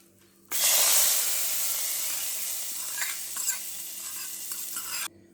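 Hot tempering of dried red chilies and curry leaves poured into a papaya and bottle gourd curry gives a sudden loud sizzle and hiss that gradually softens over about four and a half seconds, then cuts off.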